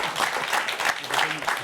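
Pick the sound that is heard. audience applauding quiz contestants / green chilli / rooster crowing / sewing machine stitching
audience applauding quiz contestants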